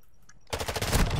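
An MP7 submachine gun fired from the hip in Modern Warfare 2 breaks out after a quiet moment into a loud, fast burst of closely spaced shots lasting under a second.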